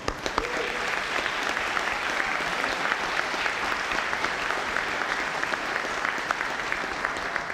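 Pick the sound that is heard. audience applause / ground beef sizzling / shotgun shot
audience applause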